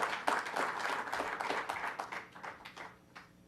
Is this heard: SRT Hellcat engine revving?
no